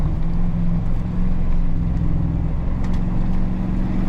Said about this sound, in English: Should still make for a cool video with exhaust noise and everything.